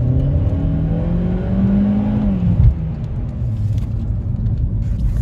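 A Seat Ibiza 1.4 TSI FR with a DSG7 gearbox, remapped to Stage 1 on E85 ethanol, accelerates hard from inside the cabin, engine note rising steadily through a gear, then a shift and a continuing loud rumble.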